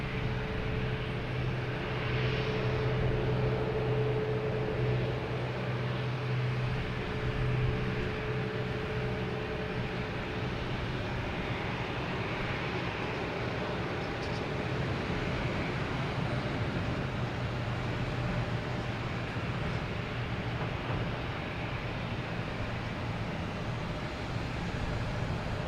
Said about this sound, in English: An A330-900 taking off on 15 right